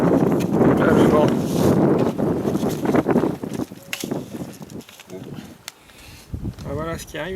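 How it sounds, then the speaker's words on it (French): Gusts of outdoor wind buffet the microphone in heavy, low rumbling bursts while soil is being prepared for a soil block press. The rumble is strongest at first, then eases into intermittent puffs as a person's voice comes through. "Voilà ce qui arrive avec le vent."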